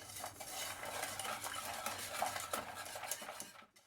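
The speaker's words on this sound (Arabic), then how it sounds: "باش نخلط نديرهم على البوطه باش كيعقد ليا هذا الخليط كامل" A chocolate cake mixture is stirred steadily in a pot, with continuous scraping and swishing and occasional utensil clinks against the metal, close and moderately loud, with no talking.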